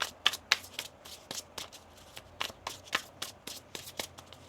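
A deck of tarot cards is shuffled by hand in a quiet room, giving a brisk series of crisp riffling and slapping bursts at an uneven rhythm, close and clear.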